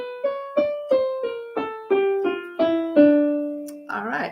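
A D melodic minor scale, one note after another, rises with raised sixth and seventh and falls back with lowered ones, about a dozen clear sustained tones ending in a short flourish.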